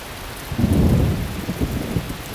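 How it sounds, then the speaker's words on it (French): A low, rumbling thunder clap swells up over steady rainfall, peaking briefly and then fading back into the patter of rain. "Il y a eu un petit coup de tonnerre."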